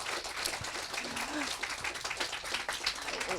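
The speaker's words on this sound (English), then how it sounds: "Please join me in giving a very strong round of applause to my friend" An audience applauds at a talk with a legal journalist, a fairly quiet, steady clatter of many hands lasting throughout.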